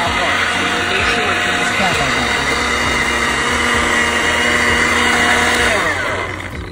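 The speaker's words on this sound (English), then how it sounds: "But before you turn the blender off" A blender whirs continuously and loudly while blending a smoothie, a dense steady motor roar with grinding texture that holds throughout before easing slightly at the end.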